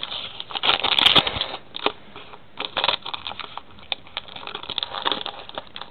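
A pack of Adrenalyn football trading cards being cut open, close crinkling of the foil wrapper followed by light scattered rustles and snips, fairly loud and without talk.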